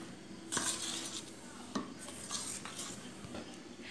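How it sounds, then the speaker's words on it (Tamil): Palappam batter being stirred in a vessel, with a spoon clinking and scraping against the sides in a few distinct, close strokes over a steady low background. "இப்போ நாம் எடுத்து வச்சுருக்க மாவிலேக்கு இது ஊற்றி நல்லா மிக்ஸ் பண்ணிடலாம்."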